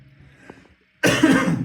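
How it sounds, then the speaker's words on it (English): A single harsh cough bursts out close and loud after a moment of quiet, preceded by faint muffled background sounds. "Excuse my cough"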